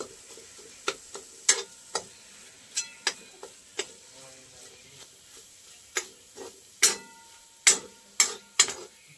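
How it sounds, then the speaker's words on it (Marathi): Masala paste frying in oil in a pan over medium heat, a soft low sizzle broken by irregular sharp clinks and scrapes of a spoon stirring against the pan, no talking. "मध्यम आचेवर मसाला आपण परतून घेऊया."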